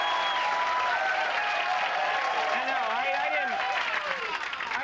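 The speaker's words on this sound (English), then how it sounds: "I didn't say that to get cheap applause" Studio audience applause on a late-night cable talk show, a dense sustained wash of clapping with voices and cheers mixed in, loud and close throughout.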